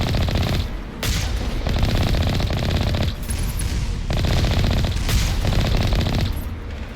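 Sustained rapid gunfire in Mass Effect Legendary Edition while clearing turrets outside a Cerberus research facility, loud dense bursts with short breaks, continuous for several seconds.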